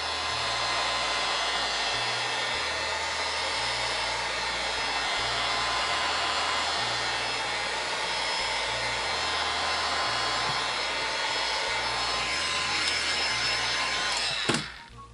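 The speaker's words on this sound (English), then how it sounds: "So we are simply going to heat this tape to remove it." A handheld heat tool blows hot air onto tape stuck to the back of a wooden charcuterie board, a continuous loud whooshing hum that holds steady for the whole stretch before cutting off with a click near the end.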